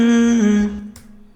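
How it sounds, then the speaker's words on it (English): A short sung vocal chop run through Waves Tune Real-Time autotune, a single held note with a hard pitch step partway, fading out with a faint breathy tail. "Added in some autotune with Waves tune real time."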